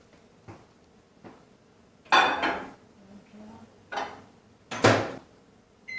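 A pan of whipping cream goes into a microwave, with close clinks of a metal pan and clunks of the microwave door opening and closing in separate bursts, no talk.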